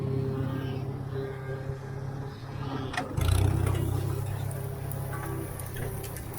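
A McCormick Farmall 350 tractor by International Harvester, with low tires, idles quietly and then pulls off in first gear, its low engine rumble growing louder and rougher halfway through, alone without talk.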